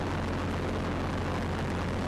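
A Robinson R22 helicopter sits in front of a hangar at Mont-Blanc Hélicoptère, readying to lift into a hover, its engine and rotor making a loud, steady, close rumble that stays constant throughout.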